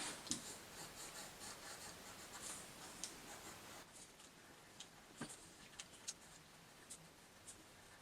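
A pencil marks paper for a guitar body template, giving faint, scratchy strokes that come in short bursts and isolated ticks, quiet and close, with no talking.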